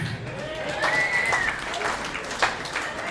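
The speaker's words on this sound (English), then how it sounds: "You guys are a great crowd. Give yourself a hand." A comedy crowd at a brewery applauds, steady dense clapping from many hands throughout, with a voice faintly over it.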